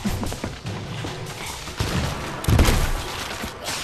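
Skeletons fire guns in the pirate video game Sea of Thieves, a rapid cluster of loud booming shots and thuds, some near and heavy, coming in irregular bursts.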